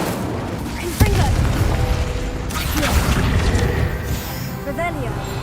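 A Confringo spell blast in a Harry Potter video game lands as a sharp, booming hit, followed by continuous rumbling, crackling effects and mechanical clatter under a speaking voice.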